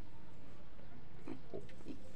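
A young native pig kept on a wet concrete floor gives three short grunting oinks close by, over a steady background noise of farm ambience.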